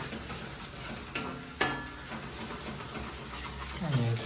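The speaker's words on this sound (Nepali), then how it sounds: "यहाँ अन्डा फ्राई हुँदैछ" An egg fries in a pan as the first step of fried rice, giving a soft, steady sizzle under quiet background sound. Two sharp clinks cut in partway through, and a louder hiss swells near the end.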